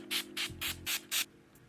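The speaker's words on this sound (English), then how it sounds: "This is a spray toner, which is good for lazy people like me." A handheld facial spray toner mists onto the face in five short, evenly spaced hissing bursts, close and crisp, with a faint sixth puff after a brief pause.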